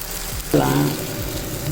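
Rice being stirred into a thick mango gravy in a pan, giving a steady sizzle and scraping that swells briefly, with a faint voice in the background.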